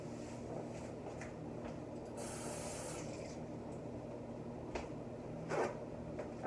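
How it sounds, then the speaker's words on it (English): An apple is rinsed under a running kitchen tap, giving a steady close hiss of flowing water with a brief louder spray burst partway through and small handling knocks. "Gotta rinse this one off because it's hit the floor."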